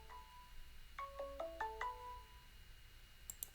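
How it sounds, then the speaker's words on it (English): Melodic electronic phone ringtone for an incoming call, a few rising and falling tones repeating in a short pattern, moderately loud and alone with no talking. "I have a phone call."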